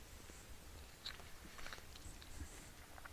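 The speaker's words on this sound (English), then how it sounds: "Sorry, I'm chewing." Quiet, close chewing of food by a person at a recording setup, soft wet bites and crunches repeating irregularly against faint room noise.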